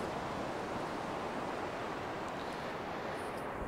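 Atlantic surf washes onto a winter beach in Asturias, northern Spain, as a steady, dense roar of breaking waves with no pauses and no voices.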